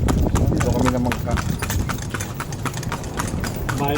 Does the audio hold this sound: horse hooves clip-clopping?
yes